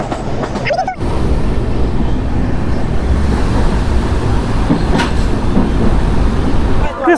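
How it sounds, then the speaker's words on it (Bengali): A train departing New Farakka Junction on the way to Malda Town, a continuous loud rumble of rolling wagons with rushing wind-like noise, briefly broken near the start. "এখানে ট্রেন ছাড়ার সময় হয়ে গেছে, ট্রেনে উঠছি"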